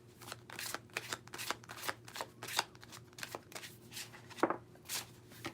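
Oracle cards being shuffled close up, a steady run of crisp riffling bursts with a faint low hum beneath and no talking.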